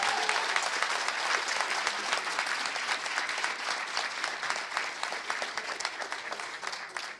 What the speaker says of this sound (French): une bonne main d'applaudissements pour Mme Beauchamp